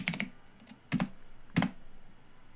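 Close, fairly quiet keystrokes on a computer keyboard: a quick pair of clicks at the start, then two more separate taps spaced about half a second apart, with faint room noise between.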